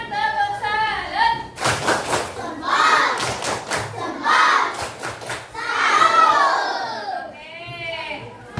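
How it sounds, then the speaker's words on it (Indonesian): Children in a classroom perform a rhythmic salute clap, sharp bursts of claps between stretches of young voices chanting and talking, close and fairly loud. "Tepuk salut buat kalian semua."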